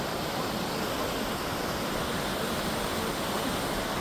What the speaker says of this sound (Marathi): इकडेचा व्ह्यू असा मस्त झरा आहे झरा